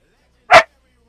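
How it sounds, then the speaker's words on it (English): A single loud, close dog bark, one short burst standing alone in an otherwise quiet indoor room. "Hey, Balto, you don't need to be barking like that, buddy."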